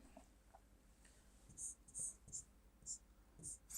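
Pen scratching on paper close to the microphone, soft rhythmic strokes in short bursts with faint background noise, quiet and unaccompanied by clear speech.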